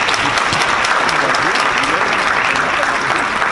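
An audience claps steadily throughout at a Rotary club recognition ceremony, a dense, even patter of many hands, loud and close, with no break.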